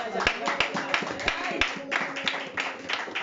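A church congregation claps in a loose rhythmic pattern, sharp hand claps repeating steadily and close, with voices under the clapping.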